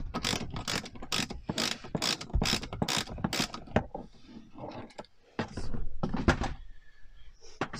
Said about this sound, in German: jetzt haben wir alle 4 Schrauben von der Konsole locker, also rausgeschraubt